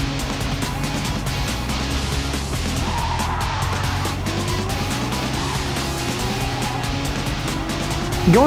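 Race car in a racing video game sliding through chicanes, its tires squealing over a steady loud engine drone that runs throughout, with a sharper screech rising at the very end.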